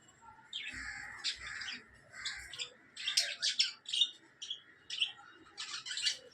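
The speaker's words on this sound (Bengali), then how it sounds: "এখানে আমার এক জোড়া লাভবার্ড আছে লুটিনো ফিশার গ্রুপের, আর 4 জোড়া বর্দি পাখি আছে।" Lutino Fischer's lovebirds and budgies in a cage chirp and squawk close by, a busy run of sharp, bursty calls in quick succession against a quiet background.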